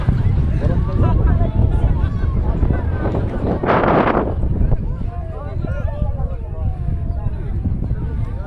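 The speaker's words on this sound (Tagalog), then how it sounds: "Lakas ng hangin ah" Wind blows hard across the microphone outdoors at a rose garden in Baybay City, a continuous low buffeting roar with a louder burst midway, with faint voices underneath.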